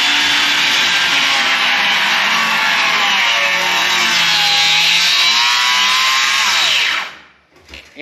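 A cordless power saw with a freshly fitted sharp blade cuts through wood, a loud, steady whining buzz that shifts pitch as it bites, then stops abruptly.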